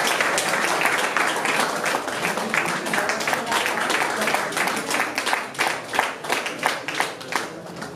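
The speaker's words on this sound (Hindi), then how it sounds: "आप जोरदार तालियों से उसके अच्छे सूत्र संचालन के लिए" An audience at a poetry gathering in Nagpur claps in strong, sustained applause for the host, a dense crowd of hand claps that thins into scattered, uneven claps toward the end.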